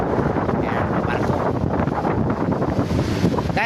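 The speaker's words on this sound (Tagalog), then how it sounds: "ganito guys ang panahon dito sa Jinsan, mga alas 2:30, malakas ang hangin" Strong afternoon wind by the sea in Jinsan, a loud steady roar buffeting the microphone with no letup, likely with waves beneath, and no voices.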